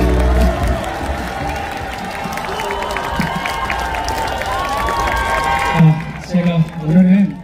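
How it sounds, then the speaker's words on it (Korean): A crowd at an outdoor political presidential campaign rally in Seoul's city hall plaza claps and cheers. The sustained mass applause is mixed with shouting and fades into voices over a loudspeaker near the end. "다시 한번 큰 박수 부탁드리겠습니다"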